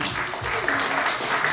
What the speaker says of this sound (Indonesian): Coba mari kita berikan aplaus,